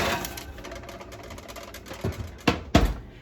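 A tray of chocolate chip cookies slides into a home oven, with a soft rattle and then a few sharp metallic clunks near the end as the rack and door move, close by with no talk.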